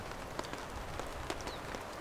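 Rain falls on a tent as a steady, soft patter with scattered sharper drop taps on the fabric, close and unbroken throughout.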